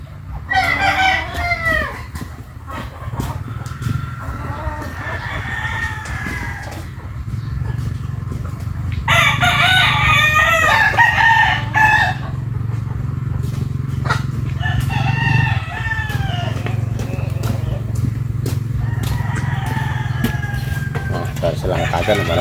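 A flock of hungry chickens and roosters, with repeated crowing and steady clucking throughout, close and fairly loud, over a low background hum and a voice talking.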